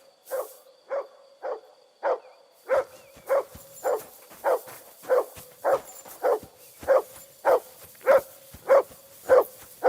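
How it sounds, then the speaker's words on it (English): Mutz the dog barks steadily in Kingdom Come Deliverance 2, a run of about fifteen evenly spaced, loud, close barks with no talk over them. "Tem nada aqui, ele fica latindo."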